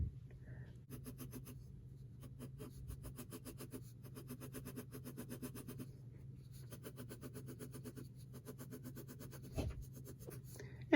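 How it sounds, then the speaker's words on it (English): Graphite pencil shading a sphere's shadow on drawing paper, a soft, steady scratchy rasp in repeated strokes with brief pauses, close and quiet, with no talking. "And I can even darken it up right now, or even add this darker pencil later."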